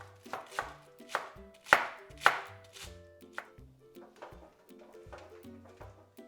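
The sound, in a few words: chopping Napa cabbage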